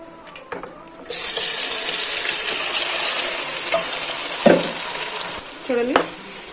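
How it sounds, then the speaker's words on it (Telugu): Marinated chicken drops into a pan of hot oil and ghee, setting off a sudden loud, steady sizzle with a few clattering stirs and clinks of the spoon against the pan. "ప్యాన్లో ఆయిల్ వేసుకున్నాం కదా ఇందులో మ్యారినేట్ చేసి పెట్టుకున్న చికెన్ని వేద్దాం"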